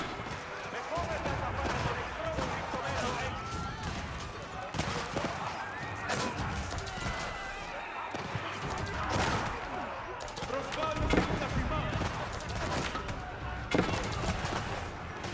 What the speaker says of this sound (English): And cannoneers firing away.